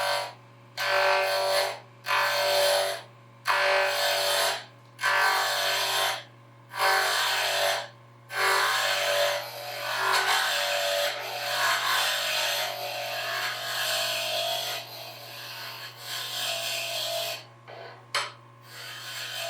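A 3-inch-long 2x2 babinga wood blank spins on a lathe as it is turned round, giving a run of rough, rasping cutting bursts separated by short pauses, then a longer continuous scraping stretch with a few brief breaks.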